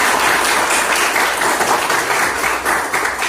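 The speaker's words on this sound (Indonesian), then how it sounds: "Oke, tepuk tangan buat kita semua." A group applauds during a classroom coaching session, loud, close and continuous clapping from many hands forming a dense, even roar that holds for the whole stretch without voices.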